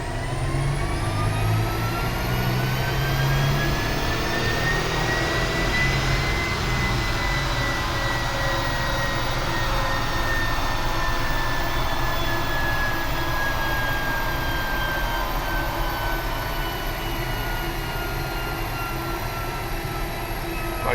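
A 2015 Audi SQ5 engine running hard on a dyno, a loud sustained roar with pitch climbing steadily through the run and then easing slightly, with no talking.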